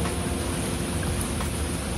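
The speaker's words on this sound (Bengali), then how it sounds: "দেখুন পাহাড় বেয়ে বেয়ে পানি পড়তেছে," Clear water runs down the hillside rocks of Darjeeling's Rock Garden, a loud, continuous rushing spatter with no pauses.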